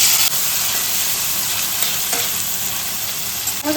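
Asafoetida and a whole tomato sizzle loudly in hot oil in a pan, a continuous close hiss and crackle of frying with occasional louder spits, no voices.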